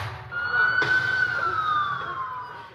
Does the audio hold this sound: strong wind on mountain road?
no